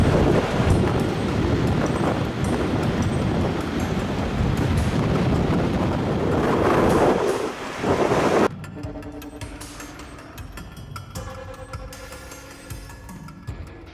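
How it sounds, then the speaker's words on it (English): Large waves crashing on the Lake Michigan shore at St. Joseph in strong wind, a roaring surf with heavy wind buffeting for about eight seconds, then giving way to quieter music. "Nearly 6-meter waves hit St. Joseph, turning Lake Michigan from calm to roaring with energy."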